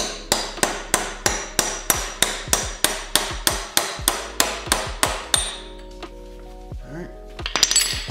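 A hammer strikes a metal punch about sixteen times in a quick, even rhythm, ringing sharply, then stops and a few lighter metallic clinks follow, while working on a Harley Sportster axle.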